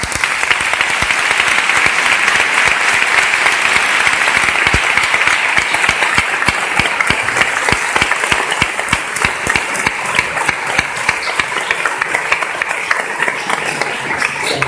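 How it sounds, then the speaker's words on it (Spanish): A crowd gives sustained, loud applause for a band director at a religious procession and Eucharist, with close, crisp individual claps standing out from a continuous roar of clapping that tapers slightly near the end. "Ahí pediría, por favor, un fuerte aplauso."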